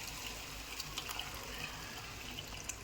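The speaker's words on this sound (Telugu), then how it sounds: "దీనికి సరిపడంత చింతపులుసు కూడా వేసుకుంటున్నాను" Tamarind extract poured into a Telangana-style fish curry with semolina-coated fish, a steady close liquid pour and gush lasting throughout at an even level.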